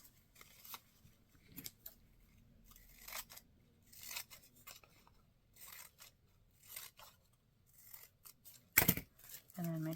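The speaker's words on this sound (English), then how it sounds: "make sure you cut it where it was folded" Scissors snip through folded paper to make a paper flower, a close series of short, crisp cuts in irregular bursts with soft paper rustling between them and a sharp clack near the end.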